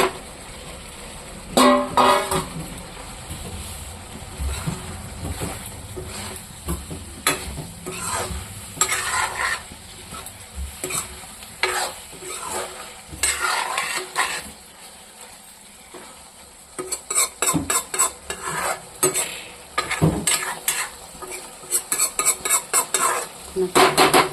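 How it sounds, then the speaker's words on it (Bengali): Okra with tomato and spices fries in a pan, with a steady sizzle and repeated scraping and clinking of a spatula stirring against the pan, close and alone with no voices. "এখন আমি ভিন্ডিটা দিয়ে দেবো। এটা এই যে ভাজা রাখা ভিন্ডি,"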